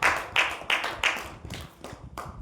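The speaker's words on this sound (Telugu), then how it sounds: "చప్పట్లు గట్టిగా వస్తాయి" An audience clapping together in a rhythmic series of sharp, bright claps, five or six evenly spaced strong beats that fade and thin out toward the end, with no speech on top.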